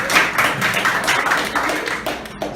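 During a Q&A session, an audience bursts into brisk clapping, close and fairly dense for a couple of seconds before it thins out.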